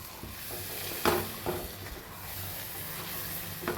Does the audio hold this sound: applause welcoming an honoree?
no